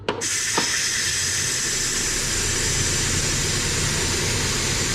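Steam from a Ninja Foodi pressure cooker's release valve vents as a loud, continuous, unbroken hiss that starts abruptly after a brief click and holds steady throughout.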